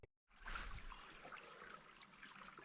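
A small stream trickles steadily over rocks beside a canoe route in Algonquin Park, faint and continuous after a brief silent start.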